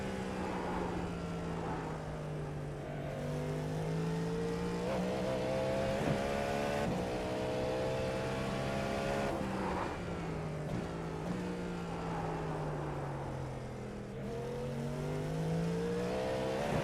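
A race car engine in the iRacing sim drones steadily throughout, its pitch rising and falling with gear changes and braking, loud and continuous with no talk over it.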